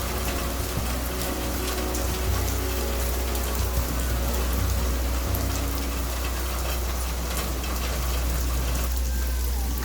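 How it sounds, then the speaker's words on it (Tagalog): Small hailstones fall steadily in Riyadh, a dense, even patter and hiss of ice hitting surfaces over a constant low rumble, continuous throughout. "umuulan ng yelo dito sa Riyadh"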